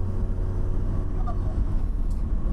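A carbureted NOB Taniguchi Street 7 driving off the highway toward Ginza, heard from inside as a steady low engine drone and road rumble, continuous and fairly loud throughout.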